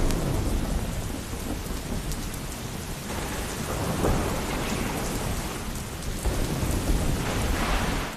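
Heavy rain pours steadily through a thunderstorm in Pakistan, with deep thunder rumbling and rolling repeatedly beneath the dense downpour, loud and close throughout with no voices.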